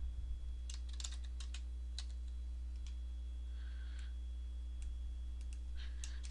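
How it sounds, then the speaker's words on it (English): Computer keyboard keys tapped in short irregular bursts while entering text in Photoshop CS3, soft close clicks over a steady low hum, no voices. "And go ahead and type."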